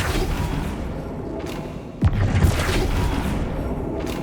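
A Flipendo spell is cast in Hogwarts Legacy, a single dull thump-like burst midway through, set against a steady ambient game rumble.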